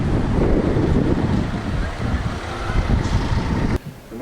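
Strong gusting wind of about 100 km/h buffeting the microphone at a seaside cycle race in Cape Town, a loud continuous roar with surging gusts.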